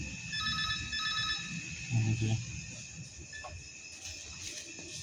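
A telephone rings unanswered in short electronic trills at an unstaffed electricity office at night in Adipur, steady and clear over a dull background hum with faint shuffling.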